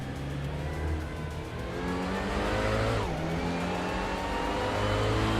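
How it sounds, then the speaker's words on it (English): Race cars in a racing video game roar continuously at close range, engines droning and shifting pitch as cars run nose to tail, with a brief tire squeal and a pass-by sweep midway through. "Mirgutsu and Dudesmoke Eoblunt are nose to tail for second place."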